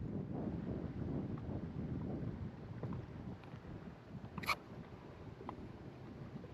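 Wind buffeting a microphone out on open water during kayak fishing on a FluxJet kayak, a steady rumbling roar throughout with faint splashes and a brief high clink near the end.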